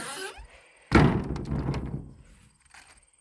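A wooden chicken coop door swings shut with a single solid thud, followed by a short rattle and fading creaks.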